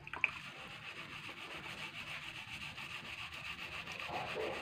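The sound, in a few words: washing a red banana in a soap dish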